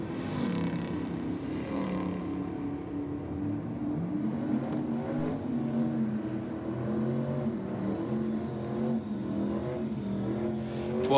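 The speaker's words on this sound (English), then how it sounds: "Tirana up against the HD panel van." A Holden HD panel van revs hard at a drag race, its engine note rising and shifting through gears in a loud, continuous pull with changing pitch from start to finish.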